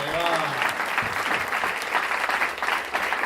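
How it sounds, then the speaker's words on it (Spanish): An audience at a talk gives a round of loud, steady applause, dense clapping filling the room with some voices mixed in. "fuerte el aplauso"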